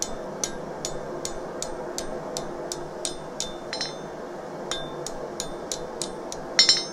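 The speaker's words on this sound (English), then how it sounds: "pick up my hammer and then just hit this down right into that point" Steel hammer striking hot metal during forging of a small keychain knife, a steady series of bright ringing taps about twice per second, close and distinct over a low background hum.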